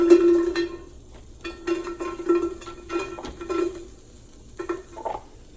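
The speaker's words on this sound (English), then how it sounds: "So I'm gonna go ahead and throw in some onion that I already had chopped." Chopped onion goes into a pot with aromatics for coconut Thai chili soup, making close, intermittent clatter and scraping from the pot and utensils, with a soft sizzle between the louder knocks.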